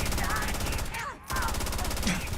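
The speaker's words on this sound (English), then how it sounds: "Oh, you've got a minigun." A minigun in the Avowed video game fires continuously in a dense, rapid rattle that drops out briefly midway and then resumes at full loudness, close and steady.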